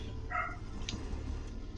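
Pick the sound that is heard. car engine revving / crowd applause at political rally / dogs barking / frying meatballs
dogs barking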